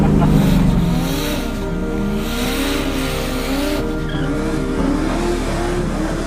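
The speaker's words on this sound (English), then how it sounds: "when the tyres are spinning" A car's tyres spin and squeal as the engine revs hard, a loud, close, sustained screech over a roaring motor that eases off toward the end.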